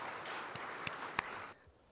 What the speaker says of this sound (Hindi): मैं चाहता हूं जोरदार तालियों से मंच पर इनका स्वागत कीजिए